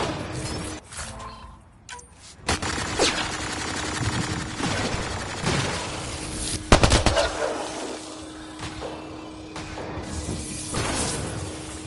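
Gunfire rattles through a Mass Effect Andromeda firefight, with repeated shots and bursts over a steady hum and a sharp loud volley near the middle.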